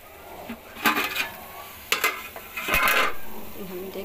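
Tomatoes cooked down into a paste in oil for Sindhi sagh, with a few clattering spoon stirs against the pan and a faint sizzle in between, close and fairly loud.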